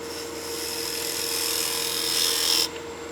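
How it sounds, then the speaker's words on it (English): A detail gouge rolls a bead on a wooden bowl spinning on a lathe: a steady, close scraping hiss of the cutting edge against the turning wood that builds slightly, then stops abruptly near the end. "Now I'll go ahead and switch over to using a detail gouge because I want to roll a bead."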